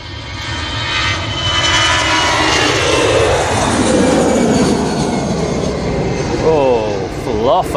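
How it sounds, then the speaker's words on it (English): An EasyJet A320 departs Manchester Airport with a loud, broad jet roar swelling and sweeping past, and a voice talks briefly near the end. "So an EasyJet A320 off to La Rochelle"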